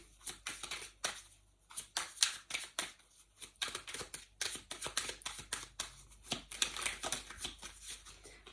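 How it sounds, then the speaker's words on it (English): Rapid riffling bursts of cards being shuffled, repeated over and over in quick crisp runs, close up and fairly quiet. "So let's have a little shuffle and see."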